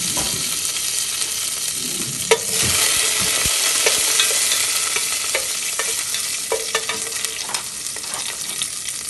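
Curry leaves crackling and sizzling in hot oil in a heated pan, a loud, close, continuous hiss with scattered pops and a sharp burst as the leaves hit the oil.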